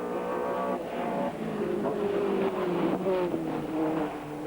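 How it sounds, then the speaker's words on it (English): TVR Tuscan race cars with 450 bhp AJP8 engines race past at a 1997 circuit meeting, a loud continuous engine roar with shifting pitch as cars sweep by, heard without speech. "these big 450 brake horsepower AJP8 powered TVR Tuscans, very, very quick indeed in a straight line"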